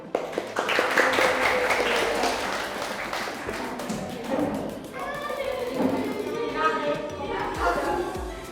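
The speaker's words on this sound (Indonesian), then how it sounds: "silakan tepuk tangan untuk kalian semua." Students in a classroom applaud together after a role-play lesson, a dense burst of clapping with thumps that fades as a voice begins talking over it.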